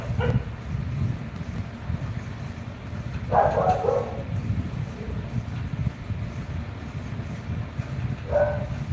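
Stray dogs outside give two brief, distant barks several seconds apart, faint against a constant low background hum and wind-like noise.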